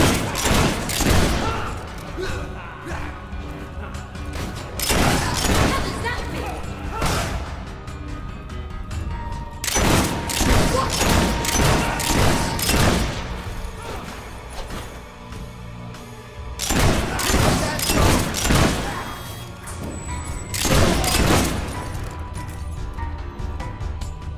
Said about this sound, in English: Keep your heads down, boys! The scumbag's shooting at us!